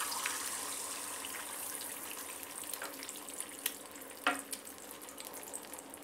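Six eggs frying in hot oil in a pan give a steady, fairly faint sizzle and hiss with a few sharp crackles and pops.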